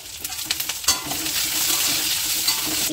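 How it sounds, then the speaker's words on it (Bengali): Onions frying in oil with ginger for chilli chicken: a steady, close hiss of sizzling oil with a few scraping stirs of the spoon at the start, then an even, continuous fry. "পেঁয়াজটা হালকা একটু ভেজে নেবে।"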